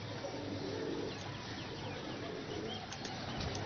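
Pigeons in a rooftop loft give low, soft cooing over a steady outdoor hum, with a few faint chirps and wing flutters in the background and no voices.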